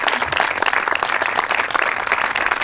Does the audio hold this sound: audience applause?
yes